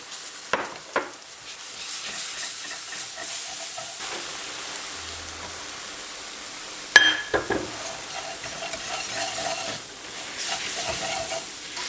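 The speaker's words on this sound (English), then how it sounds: "After adding the sugar, continue to stir until everything mixed together well" A wooden spoon or utensil slowly stirs caramelized sugar and milk in a pot for a Konya höşmerim dessert, giving a soft, quiet scraping and faint hiss, with an isolated clunk midway.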